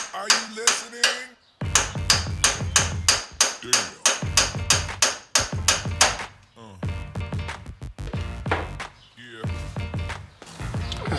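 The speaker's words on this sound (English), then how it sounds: "Now I'm about to hammer it on there, and I'll show you how it pops it out." Rapid, repeated hammer blows drive a ball joint separator into the suspension of a Cadillac Escalade, loud close metallic strikes in steady bursts with short pauses between runs.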